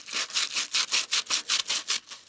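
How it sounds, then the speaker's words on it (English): Rhythmic scratchy sanding strokes inside a carved wooden kuksa cup, about ten even back-and-forth passes, close and fairly loud. "Then I'll sand the inside of the bowl."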